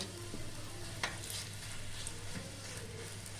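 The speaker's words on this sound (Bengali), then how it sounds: "এবার তেল দিয়ে সেকে নামিয়ে নেব" An aloo paratha fries in oil on a pan with a soft, steady sizzle, fairly faint, over a low background hum, with one brief clink and no voices.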